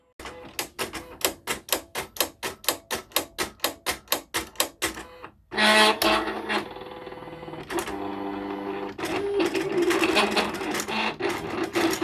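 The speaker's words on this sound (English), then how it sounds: "I'm going to click send as is, and it's going to start cutting." A Silhouette Cameo 3 cutting machine works on heat transfer vinyl, first clicking in a fast rhythmic train of pulses, then shifting into a continuous whirring motor hum with softer mechanical rattles, heard close up.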